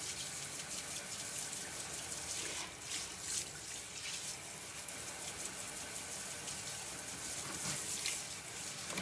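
Tap water runs to rinse conditioner out of a synthetic wig, a faint steady gushing splash with uneven surges, heard alone without talking.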